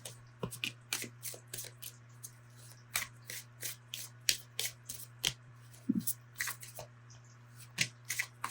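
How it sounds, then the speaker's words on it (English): Tarot cards being shuffled by hand in a quiet room: a steady run of crisp, close riffling snaps and slides in uneven bursts over a constant low electrical hum, with no voices. "Let's get your tarot cards and see what else we have."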